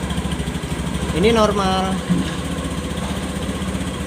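A scooter engine with a sticky throttle that will not return runs steadily, its idle pulsing under someone talking close by, with a brief rise in revs partway through.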